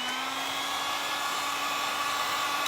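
A heat gun blows hot air steadily over a freshly decorated outlet switch cover, a continuous close whir with a high whine that holds even and loud, no voices.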